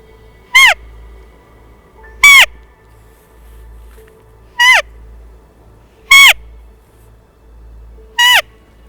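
Five separate high, wavering squeaky calls blown at a slow, uneven rhythm, imitating the low-pitched note of a roe deer used to lure bucks during the rut, each call loud and close against a quiet background.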